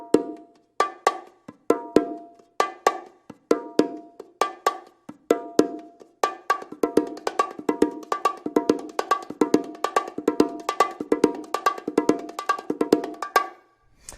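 Bongos played solo in a Brazilian-style groove with bass drum accents, a crisp steady stream of high and low hand strokes that starts sparse, then thickens into rapid continuous rolls before stopping.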